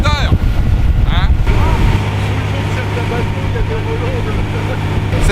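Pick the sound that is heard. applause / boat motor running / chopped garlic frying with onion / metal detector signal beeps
boat motor running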